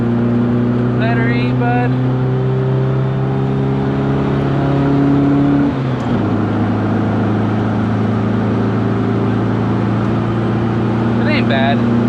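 A Volkswagen Beetle engine is held at full throttle during a top-speed run, droning steadily before a quick gear change drops the pitch and it keeps pulling. Someone speaks briefly over the loud interior engine noise.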